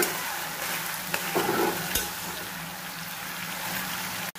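Spicy kosha chicken and potato fry in a pan as tomato goes in, giving a steady close sizzle. A soft thud and a brief stirring scrape break in partway, and a sharp click comes near the end. No speech.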